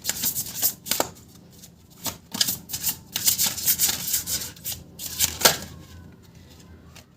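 Cards from a reading deck shuffled by hand, a fast riffling, rustling flutter in short repeated bursts close up, with no talking.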